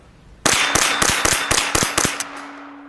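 Ruger 10/22 .22LR rifle fired rapidly at an outdoor target, eight sharp cracks in quick succession over about a second and a half, loud and close, with a brief ringing tail.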